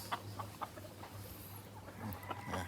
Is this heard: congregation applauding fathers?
no